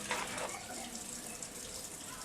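Water pours steadily from a faucet or container into a pot of chicken pelau with rice, a continuous close gush lasting a couple of seconds.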